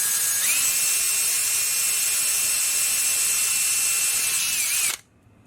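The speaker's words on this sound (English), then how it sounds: "I've drilled a 1/8 inch hole" A power drill bores a 1/8 inch hole in a plastic answer buzzer, a loud steady high whine that holds for about five seconds, then cuts off abruptly into quiet.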